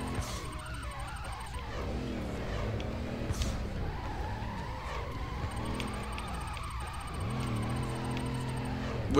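A Dodge Charger drifts in the PS2 game Fast and Furious Tokyo, its engine revving and swinging in pitch with tire skids as it slides through tight corners, heard continuously and close.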